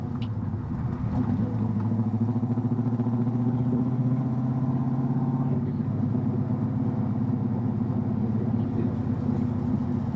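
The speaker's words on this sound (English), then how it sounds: "Today we are going to drive my 1973 Chevrolet Camaro Z28." 1973 Chevrolet Camaro Z28 driving, its engine giving a continuous deep rumbling drone with a slight pitch dip partway through, close and loud throughout, no talking.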